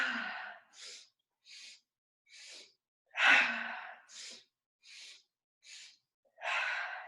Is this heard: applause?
no